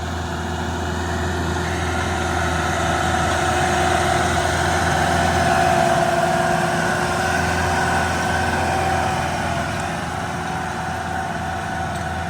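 An Iseki NT554 tractor engine drones loudly and steadily throughout, swelling slightly in the middle, with no voices.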